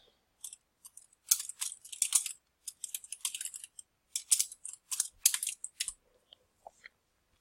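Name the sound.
typing a new API key name on a computer keyboard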